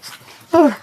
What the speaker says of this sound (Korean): 이 강아지들